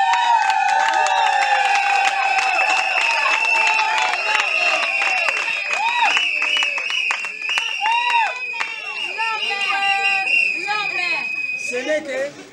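Crowd at a civil wedding ceremony applauding and cheering, clapping and whistles mixed with loud festive babble and overlapping voices throughout, steady and close.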